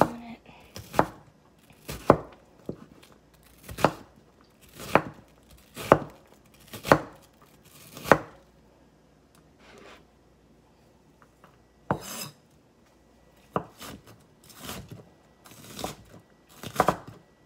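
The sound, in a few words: knife chopping an ingredient finely for guacamole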